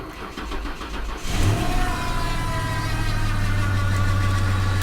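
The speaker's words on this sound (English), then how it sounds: "A little power steering whine going on there." A cold Lincoln car engine cranks and catches near 1.2 seconds, then settles into a steady idle with a sustained power steering whine riding over the engine drone, close and fairly loud.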